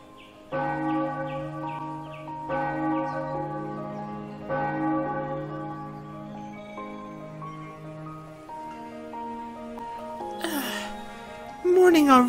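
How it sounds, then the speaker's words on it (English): Bell tolling in the fantasy role-playing video game Ara Fell, several slow resonant strikes ringing and decaying over about ten seconds, followed by a brief higher game sound effect at the end. "Morning already. I hate that stupid bell."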